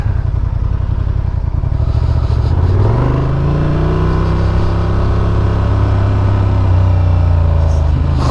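A 2024 Honda XL750R Transalp motorcycle engine drones loudly while riding, its pitch dropping then climbing steadily as the throttle closes and reopens, with rushing wind noise throughout.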